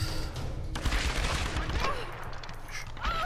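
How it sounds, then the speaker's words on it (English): Rapid bursts of World War II rifle fire in the Tomb Raider video game, several sharp reports in quick succession over a background of game sound effects. "It's a sort of World War II rifle, I believe."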